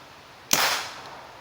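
A homemade butane-powered PVC toy gun fires an 8mm steel ball, giving one sharp, loud pop followed by a brief whooshing decay in an otherwise quiet moment.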